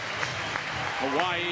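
A large crowd of fans applauds and cheers steadily at the 2005 Little League Baseball World Series championship, a continuous wash of clapping beneath a commentator's voice.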